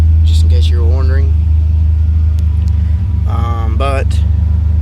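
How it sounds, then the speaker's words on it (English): A car fitted with a Flowmaster exhaust idles with a deep, steady low rumble that holds throughout, while a person talks over it. "I do have a Flowmaster exhaust, just in case you were wondering"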